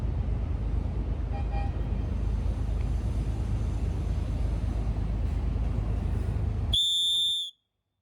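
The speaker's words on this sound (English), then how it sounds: "Now my third whistle is a 3D printed emergency whistle." A 3D-printed emergency whistle gives one short, piercing blast near the end, after several seconds of steady outdoor rumble and traffic-like noise.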